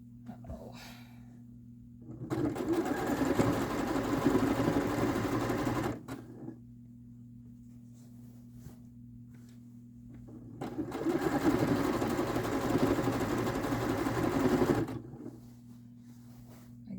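Sewing machine stitching through a quilt at fast speed, two long steady bursts of rapid mechanical whirring separated by a quiet pause with a low hum, close and loud.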